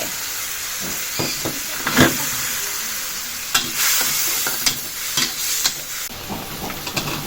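Salted egg frying and being stirred in a hot pan, with a steady sizzle and hiss beneath repeated scraping and clinking strokes of a utensil, close and continuous.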